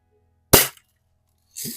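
A Crosman Hunter Hank BB gun fires two sharp, brief snapping shots about a second apart, close by and loud against near silence.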